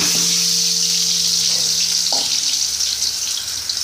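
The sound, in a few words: potatoes frying in hot mustard oil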